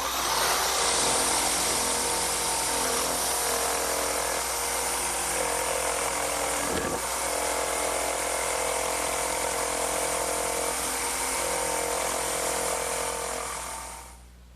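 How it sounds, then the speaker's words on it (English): An electric jigsaw cuts wood to clear out a mortise, a steady loud buzzing drone that runs almost unbroken with one brief dip, then stops at the end. "now I will use my electric jigsaw"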